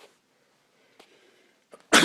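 A single sharp, loud sneeze bursts out near a kitchen at the very end, after a near-silent stretch with a few faint soft noises.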